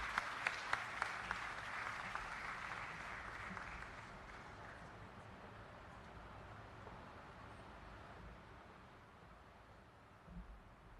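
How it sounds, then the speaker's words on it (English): Audience applause at the official opening of a new Pepsi production line: a dense, steady round of clapping from a crowd, loudest at the start with a few sharp claps standing out, then gradually thinning and fading over about eleven seconds. "Can we give Anisha and the amazing team that was just recognized another round of applause?"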